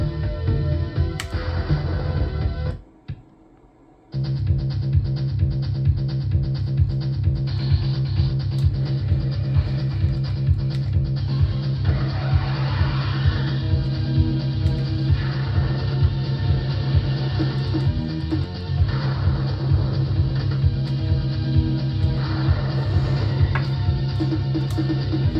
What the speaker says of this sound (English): Let's do some Crash and Burn.